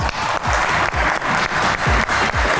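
An audience applauds to welcome two guests onto a talk-show stage, a steady wash of close, dense clapping running through the moment without a break.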